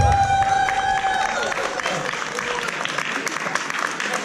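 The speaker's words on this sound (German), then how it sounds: "Einen kleinen extra Applaus nochmal für die Band" Audience at a live band concert clapping in steady applause that swells and carries on, with crowd murmur and some voices mixed in, following a fading musical tone at the start.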